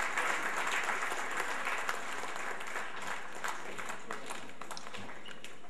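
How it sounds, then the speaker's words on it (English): A seated audience at an international congress gives sustained applause as a guest leaves the stage, a dense, even wash of many hands clapping that carries on steadily throughout. "Let's give him a warm round of applause as he leaves the stage."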